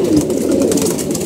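A pigeon coos close by, a soft low throaty rolling call repeated without pause, standing alone without talk.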